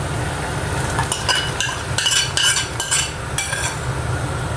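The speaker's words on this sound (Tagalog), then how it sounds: "Umimix lang natin siya ng mabuti" A utensil stirs bitter gourd laksa soup in a sizzling pot, with scraping and light metallic clinks in irregular bursts over a constant hiss.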